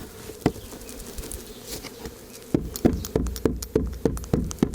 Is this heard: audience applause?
no